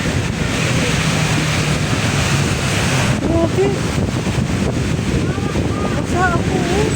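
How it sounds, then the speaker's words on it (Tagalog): Strong wind buffets the microphone nonstop on a blustery shore, loud and rumbling, with a few brief spoken words mixed into the gusts. "Ay, grabe guys. Ang lakas ng hangin. Kala mo may bagyo."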